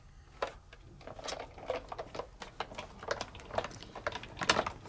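A manual die-cutting machine is cranked forward and back, pushing a stack of platform, shim, cut plate, paper and die through its rollers, making a quiet, steady run of close clicking ratchet ticks with no talking.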